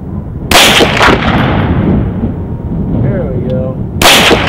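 Two loud, sharp 9mm gunshots from a Glock 19 pistol firing Liberty Civil Defense 50-grain +P rounds, the first near the start and the second near the end, each with a brief ringing tail and a quiet stretch between.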